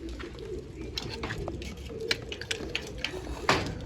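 Pigeons coo close by in soft, repeated throaty calls amid rustling and light tapping sounds, with a voice briefly audible in the background.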